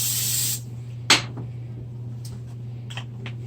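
Cooking spray is blasted into a frying pan before frying an egg, a short loud hiss lasting about half a second, followed by a light clink of the pan over a steady stovetop hum.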